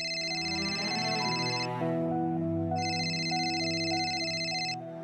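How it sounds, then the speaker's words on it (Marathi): A phone ringtone plays a repeating electronic melody with steady beeping tones, clear and continuous, with no talking. "स्वीटूचा फोन."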